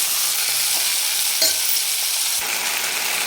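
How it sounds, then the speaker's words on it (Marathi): Mutton pieces fry in hot oil for a spicy mutton rassa, stirred continuously in the pan: a steady, dense sizzle with occasional soft scrapes of the spoon, close and loud throughout. "तेलावर एक पाच मिनिट चांगलं परतून घ्यायचं आहे आपल्याला कंटिन्यू याला हलवत राहायचं"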